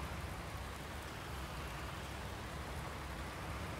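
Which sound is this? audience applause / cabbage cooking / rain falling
rain falling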